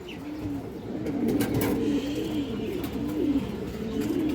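Several high-flyer pigeons coo in a steady, rolling rhythm, soft throaty calls overlapping close by, with faint rustling in the background.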